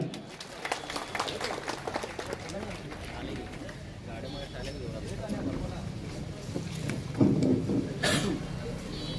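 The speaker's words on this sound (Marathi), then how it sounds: "एकदा जोरदार टाळी" A crowd claps together at an outdoor Shiv Sena election rally in Bedag, the applause a dense, rough wash that swells toward the end, with voices and PA noise mixed in underneath.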